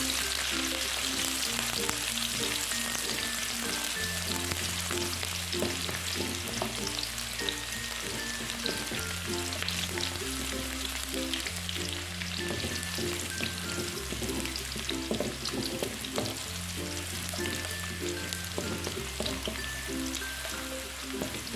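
Garlic sautés in a pan while being stirred, a steady close sizzle and crackle running continuously, with background music playing throughout and no one speaking.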